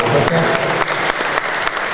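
Audience applause at a conference on rural culture and politics, dense clapping throughout with a voice speaking over it.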